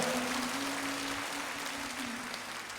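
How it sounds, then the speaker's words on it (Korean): Church congregation applauding during a prayer meeting, a soft, distant, steady wash of many hands clapping with a low hum running underneath. "주님 앞에 영광의 박수 올려드리겠습니다."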